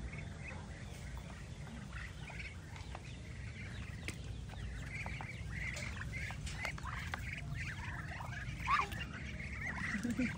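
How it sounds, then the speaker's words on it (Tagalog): Ducks quacking in a farmyard in rural La Union, Philippines, several birds calling on and off amid a steady low rumble of background noise, with a louder call near the end. "Mga pato."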